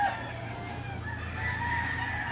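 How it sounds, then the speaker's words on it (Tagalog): A rural flock of chickens clucks steadily while a rooster crows, with overlapping bird calls filling the yard and no talk. "Ang ingay ng mga manok."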